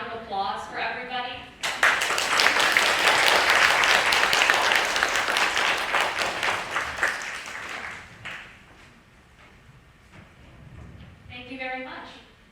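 Sustained audience applause for presenters at a Japan-America Society tenth anniversary event, a loud dense stretch of clapping that fades out, with speech before and after.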